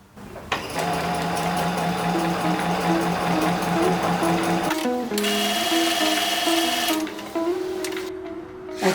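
An electric sewing machine stitches vintage material for a shawl in a steady, close whirring run that pauses briefly, then resumes at a slightly different pitch before stopping.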